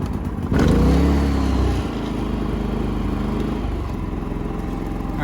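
A portable generator pulls to a start and settles into a steady, loud engine drone, running continuously at close range with no voices over it.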